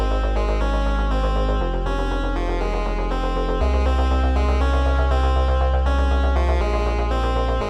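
Synth sub bass pitched an octave lower in FL Studio, with deep sustained bass notes changing every couple of seconds under a dense, steady synth pattern. The mix is loud and continuous.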